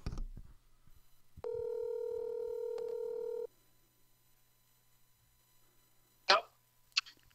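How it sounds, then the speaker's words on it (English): A telephone call is placed: a steady dial tone holds for about two seconds, then silence follows before a couple of short clicks and beeps near the end, with brief talk at the very start. "Now I call Void."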